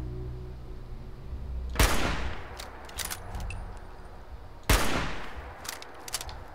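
Turret gunfire in Fallout 4: two sharp, loud bursts of shots about three seconds apart, each trailing into a ringing decay, with scattered smaller cracks and clatter between them over a low game ambience.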